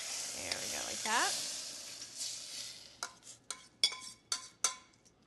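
A spoon presses drained spinach in a colander, giving a run of sharp metallic clinks and scrapes, five or six distinct taps in quick succession after a soft faucet-like hiss and a brief whistle-like voice sound.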